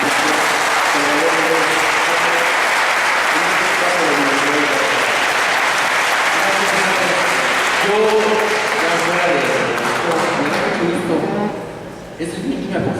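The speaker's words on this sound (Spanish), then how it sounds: "podemos brindar un fuerte aplauso" Audience at a university environmental management forum gives a long, loud round of applause after a conference talk, steady clapping that fades near the end with voices mixed in.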